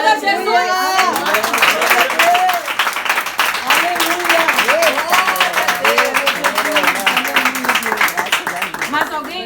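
A church congregation breaks into loud, dense applause and clapping alongside cheering voices and scattered shouts, sustained throughout at close range.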